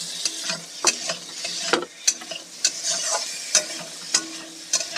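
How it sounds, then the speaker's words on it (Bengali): Potatoes stir-fried in a spice paste sizzle steadily at close range, punctuated every second or so by sharp scrapes and taps of a spatula against the pan. "আলুগুলোকে মশলার সঙ্গে খুব ভালোভাবে কষে নিচ্ছি"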